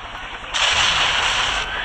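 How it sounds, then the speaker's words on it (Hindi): A tanker blown up in the video game Rope Hero: Mafia City, a loud sustained blast that surges suddenly and roars for over a second, with a rumbling low end and no voice over it. "पूरा टैंकर उड़ा डाला भाई"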